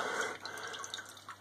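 Water trickles and drips from the return line of a vibrating pump in a cheap DIY water-cooled TIG torch setup, a faint, steady splashing trickle heard close up.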